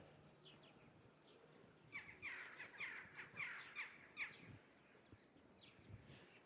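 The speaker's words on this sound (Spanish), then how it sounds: "es el sonido de los cuervos." Crows caw in a snowy Russian winter, a quick series of about five harsh calls from a moderate distance, with a few fainter caws around them against a quiet outdoor background.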